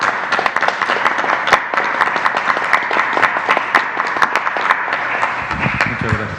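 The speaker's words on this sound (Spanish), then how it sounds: "yo creo que pues se merecen un aplauso, ¿no?" Applause from the press-conference audience honouring nurses, sustained and fairly loud with dense overlapping claps and a few sharper individual ones standing out, fading slightly near the end.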